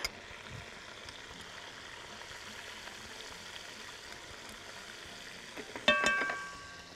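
Lamb pieces brown skin-side down in a pan with salt, dried coriander and ginger, giving a faint, steady sizzle that swells into a louder burst of frying near the end.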